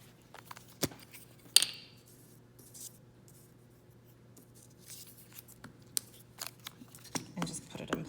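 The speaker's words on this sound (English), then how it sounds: "it's really important that you cut pieces to fit" Scissors snip paper pieces for a collage, quiet scattered cuts and crisp paper rustles against a low steady hum, with several sharper snips standing out.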